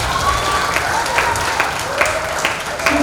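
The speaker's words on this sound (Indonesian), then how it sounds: "Tepuk tangan untuk kita semua." Junior high school students and guests at a heroism seminar held by the Kediri city social services office clap together in loud, steady applause, a full room of hands sounding close and continuous.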